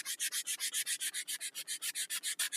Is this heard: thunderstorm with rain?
no